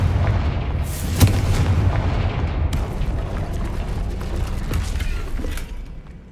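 A Confringo fire spell in Hogwarts Legacy bursts with a booming blast near the start, followed by a sustained rumbling, crackling roar that slowly fades out.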